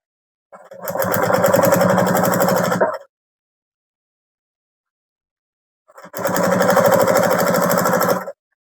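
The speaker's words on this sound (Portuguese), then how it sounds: "vou passar uma costurinha aqui para fazer o acabamento" A sewing machine stitches a finishing seam on a fabric bag in two loud, steady bursts of fast mechanical whirring, each about two and a half seconds long, separated by a quiet pause.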